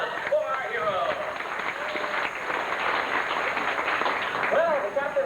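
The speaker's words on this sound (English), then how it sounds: "how about a nice round of applause for our hero?" Audience applause at the Sea-Arama bird show in 1989, a crowd clapping steadily at moderate level while a narrator keeps talking over it and brief whistle-like tones rise through.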